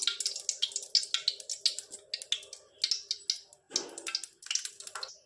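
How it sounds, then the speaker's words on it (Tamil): Cooking oil poured into a pan for vegetable mushroom fried rice gives a quiet run of short wet drips and splatters, irregular and close, with a brief fuller gush near the end. "முதலாவது எண்ணெய் ஊற்றலாம்."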